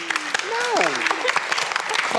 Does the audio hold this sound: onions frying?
no